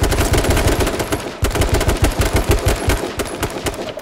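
Rapid automatic gunfire in the battle royale game H1Z1 rattles in dense, fast bursts, loud and close, with a brief pause before the firing resumes.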